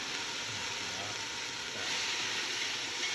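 Shallots frying in hot oil give a steady, broadband sizzle that holds evenly throughout and swells slightly partway through, with no voices over it.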